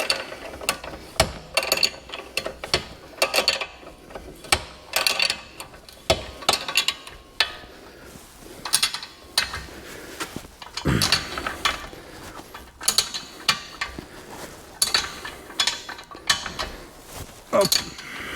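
Ratchet wrench tightening the upper and lower suspension link bolts on a BMW 330d E92, a string of close, sharp clicking bursts in uneven spurts with brief pauses between, no talk.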